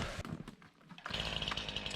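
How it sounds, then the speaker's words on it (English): A chainsaw sputters, dips briefly, then revs up into a loud, buzzing, steady whine close by, on a homestead during maple syrup processing. "I was able to get the chainsaw running again"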